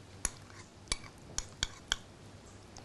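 A spoon stirring tuna carpaccio with coconut milk in a bowl, five or six sharp clinks against the dish spaced about half a second apart over a quiet background, close and fairly soft.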